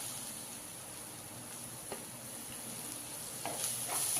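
Chopped tomato sautés in a pan for egg curry, making a soft, steady frying hiss with a few faint stirring taps, quiet and with no voices.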